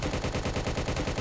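Rapid automatic gunfire from a Roblox prison game, a dense unbroken burst of evenly spaced shots at steady loudness throughout.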